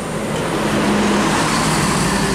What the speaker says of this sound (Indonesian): Inilah keberangkatan atau bus keberangkatan Sumber Jakarta terakhir yang diberangkatkan dari Terminal Kotonan Ampe Payakumbuh.